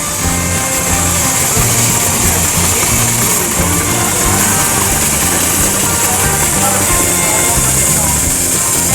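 A Garrett steam traction engine runs at a country steam show, its steady mechanical chugging loud and continuous throughout with broadband outdoor noise and no clear pauses.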